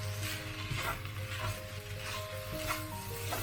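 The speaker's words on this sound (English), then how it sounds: "Coat the tuna well with the rice." Tuna and rice are stir-fried in a pan for tuna egg fried rice, with a steady close sizzle and intermittent scraping strokes of the utensil, heard without talk.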